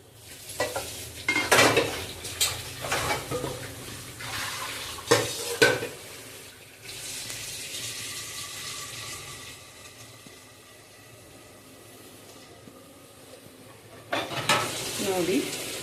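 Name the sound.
water added to dill curry cooking in pan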